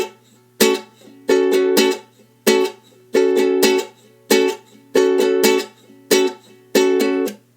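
Ukulele playing the verse of a song with chords and a muted down-up strum: bright chord strums cut off into percussive chucks in a steady repeating rhythm, close and clear, with no voices.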